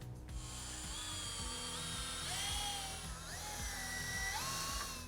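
A power tool drives screws while a VELUX roof window is installed, quiet whirring bursts that rise and fall in pitch, several short runs in a row heard faintly over a steady background hum.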